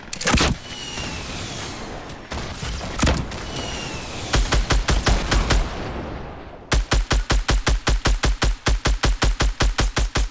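Bursts of gunfire in a shooter video game, scattered shots early on, then a rapid, steady run of evenly spaced loud automatic shots through the second half, with no talk.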